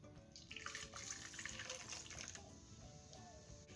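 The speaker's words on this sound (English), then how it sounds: "So now we're going to pour our champagne into our saucepan." Champagne pours into a saucepan in a steady, faint liquid stream with light splashing throughout.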